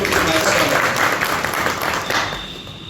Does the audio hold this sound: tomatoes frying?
no